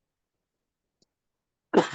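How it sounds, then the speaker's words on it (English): A single short cough from someone speaking in a quiet room, sharp and close, breaking an otherwise silent moment. "I have a bit of a cough."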